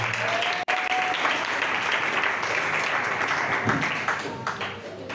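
A church congregation applauds, a loud sustained crowd of clapping hands that continues steadily for several seconds, with faint voices mixed in.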